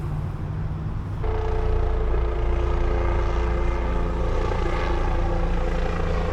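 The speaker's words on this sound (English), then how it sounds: "All three choppers are right there." Police helicopters fly low overhead during a manhunt, a loud, continuous rotor and engine drone that swells suddenly and then holds steady, close and heavy with no speech.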